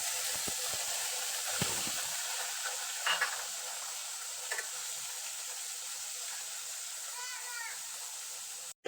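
Ground spice paste frying in a pan of oil with whole cumin and bay leaves, a steady close hiss and sizzle that carries on throughout, broken by a few faint knocks and scrapes of stirring.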